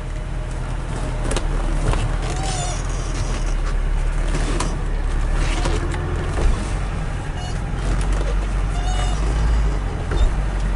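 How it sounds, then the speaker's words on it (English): A 1982 BMW 320i on a test drive gives off a steady interior engine hum with road and tire rumble, plus occasional small rattles and clicks inside the cabin. "Car runs smooth as heck though."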